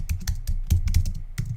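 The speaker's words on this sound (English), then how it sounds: "But this time we're going to have to type it." Typing on a computer keyboard while building a WordPress martial arts website, a run of close, crisp key clicks in quick uneven bursts over a low background hum.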